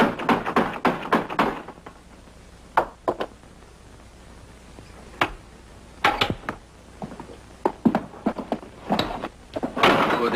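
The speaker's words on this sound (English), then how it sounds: "Open up! Open this door!" Knocking on a farmhouse door by soldiers in a 1961 supernatural drama: loud, sharp raps in irregular bursts, several quick clusters separated by pauses, with a low background hum.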